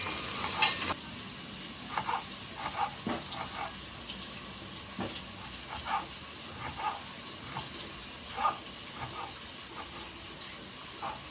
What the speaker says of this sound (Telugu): పచ్చిమిర్చి, ఆనియన్స్ మంచి గోల్డెన్ బ్రౌన్ కలర్ వచ్చింది దాకా ఫ్రై చేసుకోవాలి.